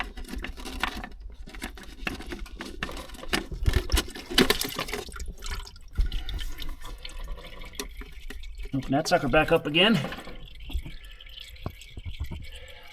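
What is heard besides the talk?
fuel filter housing draining, water dripping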